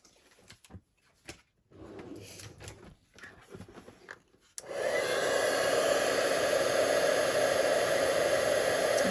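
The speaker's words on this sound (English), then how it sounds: "Grab my heat tool." A heat embossing tool switches on partway through and blows a loud, steady whoosh of hot air over powder on black cardstock, after some quiet handling noises.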